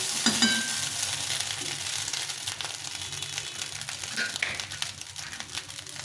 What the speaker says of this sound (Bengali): দিয়ে ভালো করে ভেজে নিতে হবে